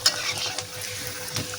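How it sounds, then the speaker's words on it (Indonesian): Tempeh sizzles and crackles steadily as it fries in oil in a pan, with faint stirring and scraping underneath. "Ini lagi goreng tempe ya"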